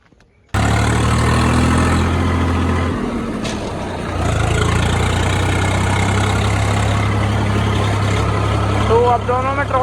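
Massey Ferguson and Swaraj tractors being readied with trolleys for a corn harvest, one engine starting abruptly and then idling loudly with a steady low throb, close to the microphone.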